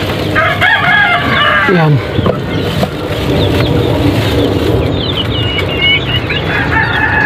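Laying hens of Texas and native breeds clucking and calling close by in a loud, busy coop, with overlapping cackles and squawks throughout and a brief spoken word.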